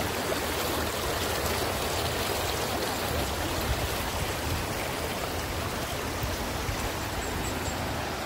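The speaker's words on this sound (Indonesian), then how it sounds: "sepanjang jalan ini banyak nih sungai-sungai, aliran-aliran sungai kecil seperti ini nih yang bersih-bersih nih, bening-bening banget" A small, clear stream flows beside a trekking trail to Curug Dua Undak, giving a loud, steady, close rushing wash of water that never pauses.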